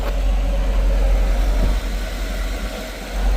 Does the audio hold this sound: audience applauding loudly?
no